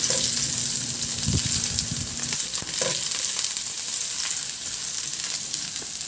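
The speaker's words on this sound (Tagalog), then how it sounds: "Magpainit na ako ng mantika at igisa ko na rin yung bawang" Garlic sautéing in hot cooking oil for a simple chicken dish, a steady close sizzle and crackle with a few stirring scrapes and clinks, no voices.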